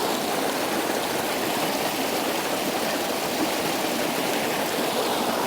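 Creek water flows steadily in a creek system on the Blackall Range, Sunshine Coast, a continuous close rushing and trickling with no talk over it.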